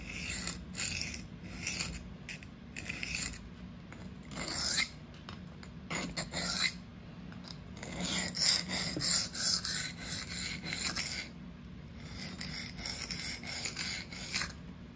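A REX-45 super-steel knife blade being sharpened freehand on a stone, with repeated close rasping, grinding strokes in a steady back-and-forth rhythm.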